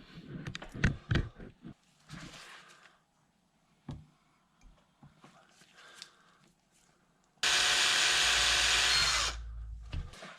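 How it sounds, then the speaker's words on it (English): A power drill bores into a Yamaha VMax carburetor part in one loud, steady burst of about two seconds near the end, after quieter handling clicks and faint talk. "I'm drilling this out"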